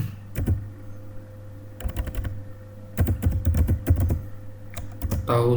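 Short bursts of typing clatter on a computer keyboard come in three or four clusters of rapid clicks, close and fairly loud, with pauses between them over a low hum and no talking.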